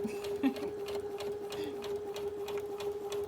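A Brother Innovis NV1100 sewing machine stitches fabric in a long, steady run of rapid mechanical ticking and a constant motor hum, heard close up with no talking.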